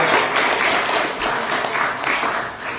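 An audience at a Maha Shivratri religious discourse in a Shiv temple gives loud, dense applause, many hands clapping together steadily and close, without a break.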